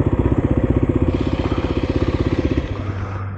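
A Kawasaki KLX300 dirt bike engine on desert single track thumps in a fast, even pulse, close and loud, then drops to a smoother lower idle near the end.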